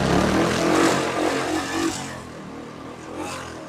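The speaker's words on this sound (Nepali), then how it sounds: "एकचोटि साउन्ड पनि सुन्नु होला है त यस्तो बवाल छ यो बाइक चाहिँ" A Royal Enfield Classic 350 motorcycle engine revs up loudly and close by, then settles into a steadier, quieter idle-like rumble, heard alone.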